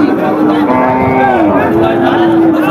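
Cattle moo steadily and loudly at a busy cattle market in Bangladesh, a long drawn-out lowing call that runs almost the whole moment over crowd murmur.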